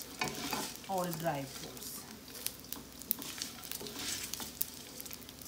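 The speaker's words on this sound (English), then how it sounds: "that it's roasting, frying very well with the ghee" Gond (edible gum) roasting and frying in ghee, a steady sizzle with occasional stirring clicks and a brief voice speaking over it.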